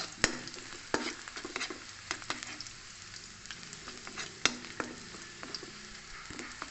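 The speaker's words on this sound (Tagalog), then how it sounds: "Pag golden brown lang muna natin yung lahat ng ano natin, luya, sibuyas at bawang." Ginger, onion and garlic sauté in hot oil toward golden brown, a quiet steady sizzle punctuated by sharp spatula taps and scraping stirs against the pan, with no voices.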